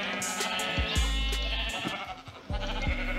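Sheep in the Minecraft video game bleat loudly several times in quick succession, close and alone over a steady game background.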